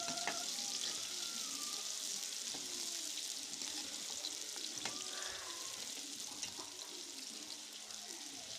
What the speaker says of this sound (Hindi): प्याज को अच्छे से ब्राउन करना है, बारीक कटे हुए प्याज।